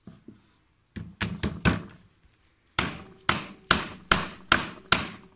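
Hammer driving a small nail into a pre-drilled pilot hole in wood while making a wooden owl: a couple of faint taps, then a quick group of four strikes and a steady run of six firm, close hits.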